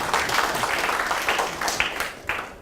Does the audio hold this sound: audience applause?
yes